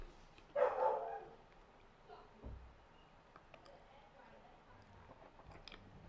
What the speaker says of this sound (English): I don't know what my dog acting up for.